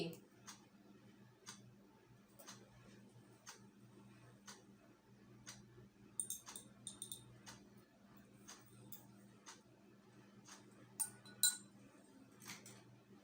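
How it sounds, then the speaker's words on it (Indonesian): A spoon or rod stirs amylase enzyme solution in a glass during a digestion experiment, giving a series of faint, evenly spaced clinks and ticks against the glass in a quiet room. "Kita aduk."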